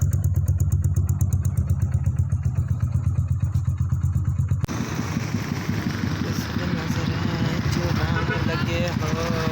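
A fully modified Yamaha YBR 125 motorcycle idles with a steady rapid exhaust pulse for several seconds, then the engine note changes abruptly to a rougher, busier sound as voices talk nearby.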